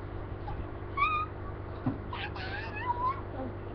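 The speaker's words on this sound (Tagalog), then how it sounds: "Meow! Meow!" A few short, high meows sound close by, spaced apart over a few seconds against a faint background hum.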